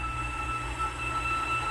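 Animated steam-era train rolling along the line, a steady continuous rumble with faint high whine, even and unbroken throughout, no voices.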